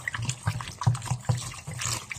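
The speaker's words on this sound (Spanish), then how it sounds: "Lavamos bien el brócoli, ¿no? Con bastante agua" Running water pours over broccoli being washed for a Peruvian stir-fry, a continuous close splashing trickle with small irregular splashes and no talking.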